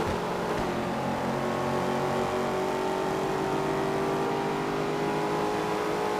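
GT2 cup race cars at Sebring run down the back stretch, a sustained layered engine drone with steady high revving tones at a moderate distance.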